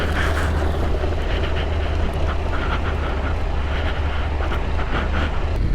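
A 2021 Honda NC750X DCT motorcycle cruises along country lanes with a steady engine drone and heavy wind rush, loud and continuous throughout with no talking.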